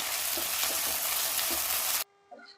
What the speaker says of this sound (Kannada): ಆಲೂಗಡ್ಡೆ ಒಂಚೂರು ಫ್ರೈ ಮಾಡ್ಕೊಳ್ಳೋಣ ಚೆನ್ನಾಗಿರ್ತೈತೆ ಒಳಗೆ ಫ್ರೈ ಮಾಡ್ಕೊಂಡ್ರೆ